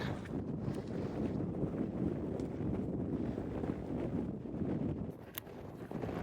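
Wind blowing hard across an exposed hiking trail on Catalina Island, a steady low rumbling buffet against the microphone that holds constant throughout, with no voices.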